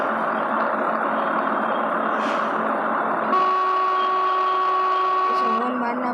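Sustained truck horn blast in the mobile driving game Truck of Europe 3, a steady tone over the droning engine and background game music, cutting off near the end.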